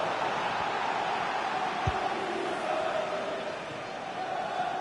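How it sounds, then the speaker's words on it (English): Constant, even video game crowd applause from FIFA 20 on PS4 fills the space like a distant stadium roar, with a single brief thump partway through. "Please give a round of applause for today's man of the match."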